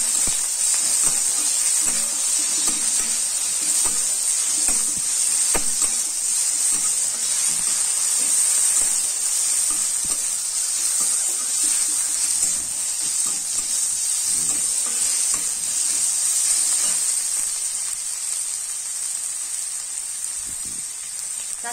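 Ginger-garlic paste and chopped tomato sizzle steadily in a pan, a constant bright hiss with faint scattered crackles that holds level from start to finish, no voices over it.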